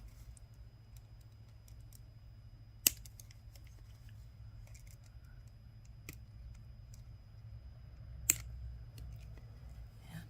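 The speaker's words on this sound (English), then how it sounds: "So now we'll have to trim these pieces off." Scissors trimming wire ends on handmade peach bud earrings, a few sharp isolated snips spread apart over faint background hum and small handling clicks, no talking.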